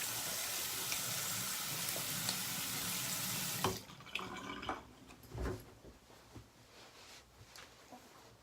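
Running tap water splashes steadily as soap is rinsed off a face at a sink, then cuts off into scattered drips, splashes and small handling sounds, fairly close and quiet.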